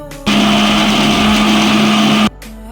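Mixer grinder blending pistachios, almonds, rice, coconut and poppy seeds into a paste for rice payasa: a loud, steady high-pitched motor whine for about two seconds, starting and stopping abruptly.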